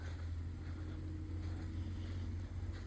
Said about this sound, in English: they're cutting corn today, and these monster trucks are going by